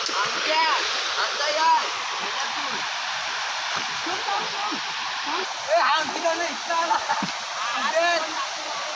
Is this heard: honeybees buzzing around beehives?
no